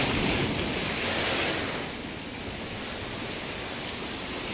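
Large ocean waves driven by strong wind off a coastal road with a damaged concrete breakwater, a loud continuous roar of surf mixed with gusting wind rumble on the microphone.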